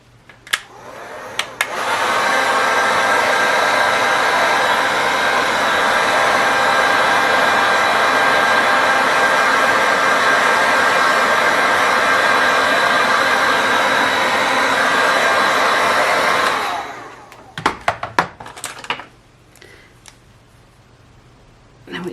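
A hair dryer blows steadily and loudly for about fifteen seconds, drying a watercolour lighthouse painting's windows and railing, then cuts off, leaving a few clicks and rustles.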